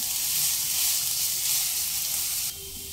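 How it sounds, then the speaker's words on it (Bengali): Finely chopped onion fries in hot mustard oil with a loud, dense, close sizzle that holds steady and then drops abruptly to a quieter hiss near the end. "পেঁয়াজ হালকা ভাজা হতে দেব।"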